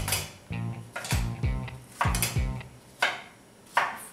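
A kitchen knife chops vegetables for a summer pasta salad on a cutting board, giving a run of close, firm knocks in an uneven rhythm.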